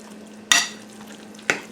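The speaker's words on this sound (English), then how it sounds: "And I'm just going to stir this around." Dressing stirred around in a pan, two sharp scraping swishes about a second apart over a faint low hum, close and without speech.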